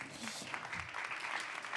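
Audience applause at a women's innovation forum, a steady wash of many hands clapping at moderate, fairly quiet level, with a voice speaking faintly over it.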